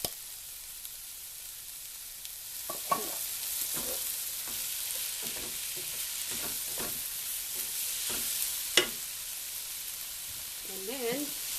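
Peas and mixed vegetables fry in a pan with a soft, steady sizzle, broken by scattered stirring clicks and utensil taps, fairly quiet and close.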